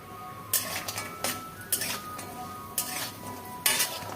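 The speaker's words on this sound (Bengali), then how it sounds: "আমি আগে বড়িটা একটু ভেজে নিচ্ছি।" Bori lentil dumplings fry in mustard oil in a pan over a faint sizzle, punctuated by four sharp, close clinks and scrapes of a metal utensil against the pan, with no talk.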